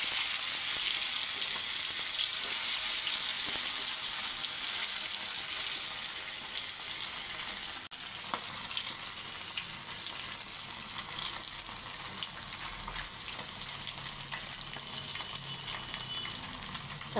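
Fish pieces frying in a pan without cornflour, giving a loud continuous close sizzle that holds steady throughout with a single brief knock midway, no voices.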